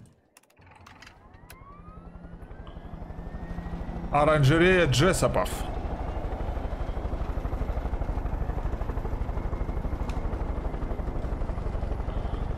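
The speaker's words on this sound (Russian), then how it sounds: "Так, чё, берем вертолет и летим до следующего сюжетного задания." A helicopter in Far Cry 5 spools up and settles into a steady rotor drone with loud engine whine, while someone talks over it and a brief louder burst cuts in partway.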